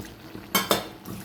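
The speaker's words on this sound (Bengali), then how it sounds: "সামান্য জল দিয়ে আমি বাটিটা ধুয়ে দিলাম" A little water swirls and splashes in a bowl of ground mustard and poppy seed paste as it is rinsed, two quick scraping splashes close up in a quiet kitchen.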